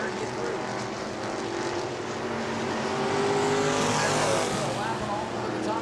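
Race cars lapping the New Smyrna racetrack make a loud, continuous engine roar with a rising pass-by swell midway, under commentary.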